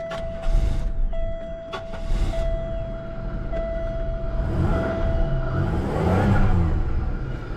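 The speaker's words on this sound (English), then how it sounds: "So let's go start the car and see if we can hear it." A car with a holed exhaust starts and idles, engine rumble rising into a few revs with rough low exhaust tone, accompanied by a steady electronic beep tone and some clicks near the start.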